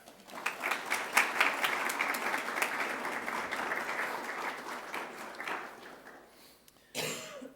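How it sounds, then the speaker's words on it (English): Assembled students and staff at a school sports awards assembly give a round of applause that swells quickly, holds steady, then tapers off, followed by a brief cough or throat clearing near the end. "Can you please give yourselves a round of applause?"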